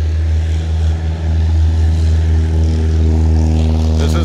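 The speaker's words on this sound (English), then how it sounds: "there's constantly planes taking off" Steady loud drone of aircraft engines at an active airport in Compton, California, a continuous low rumble and roar with no pauses and no voices.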